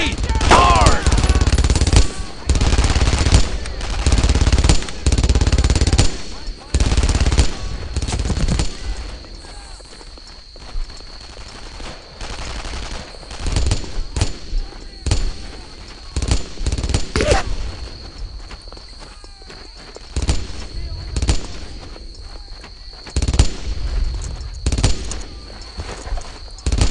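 Bursts of machine gun fire in the World War II shooter Brothers in Arms: Earned in Blood, loud rattling volleys with pauses between them, accompanied by shouting voices and scattered distant shots.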